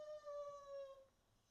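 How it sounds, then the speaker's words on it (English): Dog whining in a crate: a thin, high, wavering whine that holds for about a second and then stops, faint and alone against quiet room noise. "So if you hear whining, that's him just whining for no reason."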